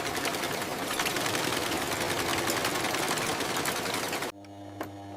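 Heavy-duty industrial sewing machines stitching denim jean inseams in a factory run as a loud, steady rapid mechanical chatter for about four seconds, then cut off to a quiet low hum with a faint click.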